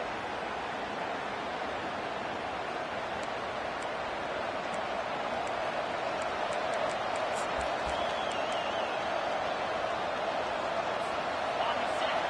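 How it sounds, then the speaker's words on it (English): A stadium crowd roars without letup at a college football game against Clemson, a loud, dense wall of cheering that swells slightly toward the end, with scattered whistles and shouts on top. "Listen to this crowd just shaking the girders of this place, trying to help their defense."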